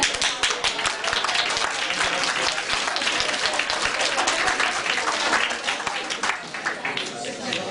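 Workshop participants at a coaching session clap for their partners, a brisk, full round of many hands that keeps up evenly before tapering slightly at the end.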